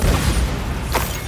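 A Bombarda blasting spell goes off in Hogwarts Legacy: a deep, booming burst that rumbles low and loud, with a short crackling flare near the end.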